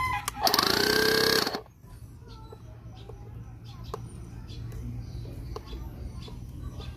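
An EWA YY3609 12V portable digital tire inflator compressor runs briefly with a loud, close buzzing rattle for about a second, then cuts off, leaving a low hum and faint clicks.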